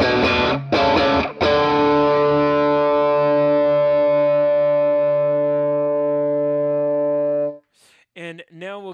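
Electric guitar through a Mojohand fx Rook Overdrive pedal on its clean setting: a few quick strums, then one sustained chord ringing out for several seconds, followed by a brief voice.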